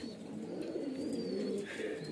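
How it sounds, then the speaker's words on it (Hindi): Pigeons cooing and calling nearby outdoors, a soft low warbling coo with a faint thin whistle above, continuous and fairly quiet, with no speech. "ये कबूतर मैं छोड़ के दिखा रहा हूँ"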